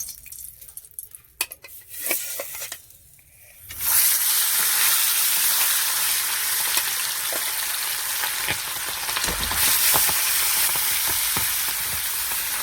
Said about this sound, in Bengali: এবার মাছ তুলে দিচ্ছি।